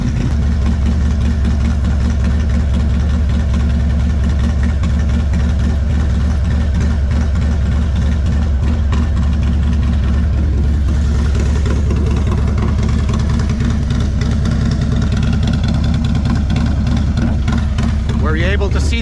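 A Harley motorcycle engine idles steadily while warming up, a loud, deep, continuous rumble running the whole time with no clear revving, and a person talks over it.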